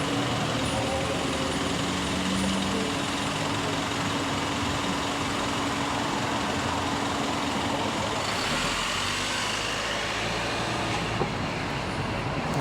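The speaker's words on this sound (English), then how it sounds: "there's a ton of cars here" Heavy road traffic on a downtown Bellevue street, a continuous loud roar of many cars and trucks passing close by, with no talking.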